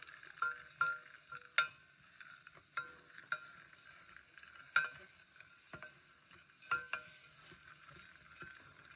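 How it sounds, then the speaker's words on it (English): Ribs coated in brown sugar are stirred in a pot, a quiet scene broken by scattered spoon clacks and scraping knocks against the metal, spaced irregularly over a faint background. "And we're gonna stir, stir, stir."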